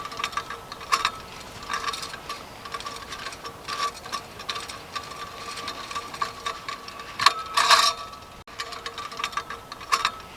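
A torque tool ratchets clockwise to tighten a Jubilee clip through a bracket while a sign is being mounted, giving irregular close clicks and ticks with a louder burst of ratcheting near the end.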